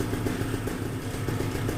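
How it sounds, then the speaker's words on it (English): Vittorazi Moster 185 paramotor engine idling steadily after warm-up, a continuous low mechanical rumble with an even pulsing rhythm, close and fairly loud, no voices. "I like the Moster 185 to be idling at"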